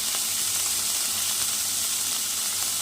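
Vegetables with green chillies fry in a pan while being stirred, making a loud, continuous, close-up sizzling hiss that holds steady throughout with no voices.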